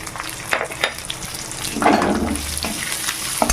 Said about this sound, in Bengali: পেঁয়াজ মরিচ করে ভেজে নেব